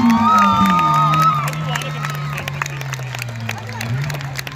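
A crowd at a live motorsport event cheers and applauds loudly, a burst of shouting and clapping that gradually eases but keeps going under a loud, steady engine drone.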